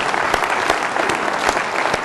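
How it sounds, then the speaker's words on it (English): A keynote audience gives a steady, full round of applause, dense overlapping claps at even loudness throughout with no talking. "Big round of applause, please."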